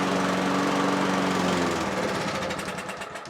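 A Cobra lawnmower engine running on choke with a carburetor fault, loud and close, a rough steady roar that begins to stumble and falter toward the end.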